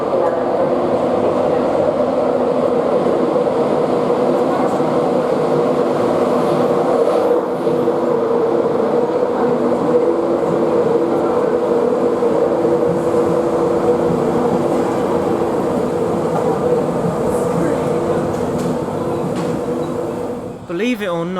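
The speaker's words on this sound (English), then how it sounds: "Now heading up into the platform is a Class 91 in Virgin Trains livery." A Class 91 electric locomotive in Virgin Trains livery rolls into a station platform, a steady low rumble and hum holding throughout with a brief higher squeal near the end.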